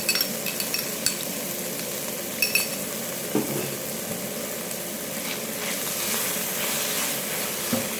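Beef noodles sizzle steadily in a hot pan for a stir-fry, with a few faint utensil clinks and scrapes as tomato ketchup goes in. No one speaks.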